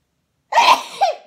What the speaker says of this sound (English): Oh, sorry, big sneezes.